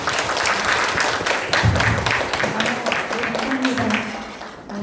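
Audience applause at the close of a panel discussion on village enterprises and communities, a continuous crowd clapping with a voice talking over it throughout.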